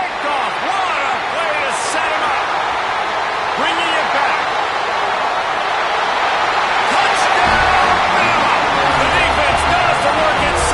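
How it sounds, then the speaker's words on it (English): Stadium crowd noise from the NCAA 26 football video game during Auburn vs Alabama on third down: a loud, continuous roar with swelling cheers, under steady talk from a commentator. "The Tide crowd rolling noise down on the Saban field on third down."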